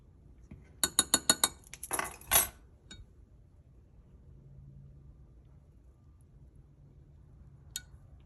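A metal measuring scooper clinks sharply several times in quick succession against a container while measuring small holographic flake for saltwater soft plastic lures, followed by a short scraping rattle and one faint tap later in near-silence.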